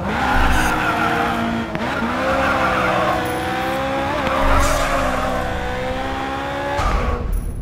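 A car drifts through a Hong Kong event in Grid 2, tires squealing steadily under a loud, constant engine drone that rises and falls with the throttle, with no break for nearly eight seconds.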